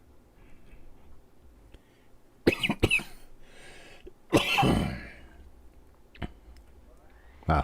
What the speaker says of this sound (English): Very dry cough.